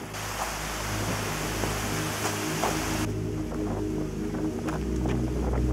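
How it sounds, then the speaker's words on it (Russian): A waterfall in the Russian north roars as a steady, broadband wash of falling water, heard close and continuous throughout with no voices. "Походу, здесь этот водопад."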